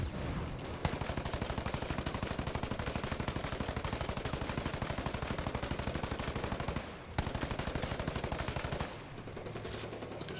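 Video game gunfire pours out in long, rapid automatic bursts against an enemy, a dense machine-gun rattle that holds steady and loud, breaks off briefly twice, then resumes.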